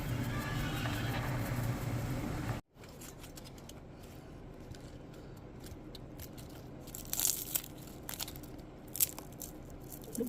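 Fried chicharon bulaklak is bitten and crunched up close after a brief burst of louder background noise, giving faint, scattered crisp crackles against a quiet room.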